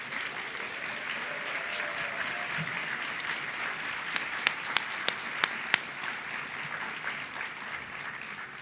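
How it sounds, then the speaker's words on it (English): Audience applause for a graduating class of 2025 at a PTA graduate recognition ceremony, a steady wash of clapping for the whole stretch with a few sharper single claps standing out near the middle. "I was going to say let's have a round of applause for the graduates, but we just did"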